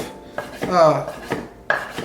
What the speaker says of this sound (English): we're just gonna chop it, okay? We're gonna start chopping